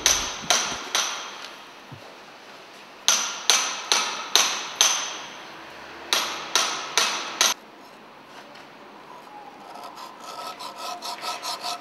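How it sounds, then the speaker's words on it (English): A toothed chisel hewing stone in a traditional stonemason's workshop, struck in quick groups of three to five sharp, close, ringing blows separated by short pauses, with faint rasping hiss toward the end. "The toothed chisel is a tool that also helps to hew the stone roughly, but in a more precise manner."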